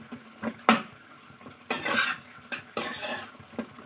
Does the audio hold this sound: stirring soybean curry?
yes